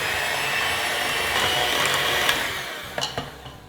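An electric mixer whirs steadily and close as it beats chocolate banana bread batter with sour cream, the hum holding for about three seconds before fading into a few light knocks and clinks.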